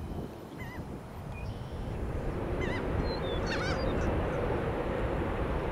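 Geese give several honking calls over steady broadband wind and ambient rumble at Tampa International Airport, with the calls clustered midway and fairly distant.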